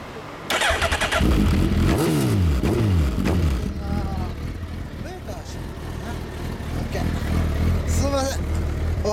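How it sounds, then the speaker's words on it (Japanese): A 2011 Suzuki Hayabusa motorcycle fitted with a full Yoshimura exhaust revs up hard several times near the microphone, with rising and falling engine sweeps, some pauses between them, and people talking around it. "エンジン音聞かせてもらえますか？"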